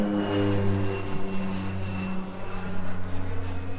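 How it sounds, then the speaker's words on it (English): A propeller airplane drones overhead above a cattle farm in France, a steady loud engine hum with strong tonal harmonics, slightly fluctuating as it passes. "Look at the plane!"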